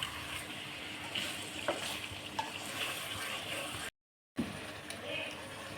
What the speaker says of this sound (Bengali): এভাবে আমি ঢাকনা খুলে খুলে কিছুক্ষণ পর পর নেড়ে চেড়ে দিব